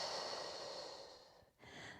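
A soft, close, drawn-out exhale during a stretch in a low-impact full-body workout, broken by a brief pause before another breathy push of air.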